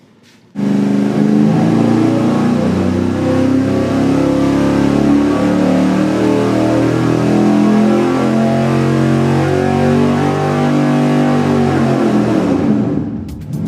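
A high-performance V8 engine on a dynamometer pull, revving hard and continuously for about thirteen seconds, loud and close, with rising harmonic tones and an abrupt start and cutoff.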